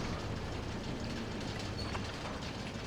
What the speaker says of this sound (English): So I'm going to hop on the little tram here,